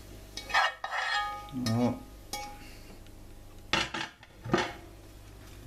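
Cooked bell pepper, onion and potato are stirred in a pan for a potato and egg bourak, giving intermittent scraping and clinking strokes between pauses, close by; a voice speaks briefly.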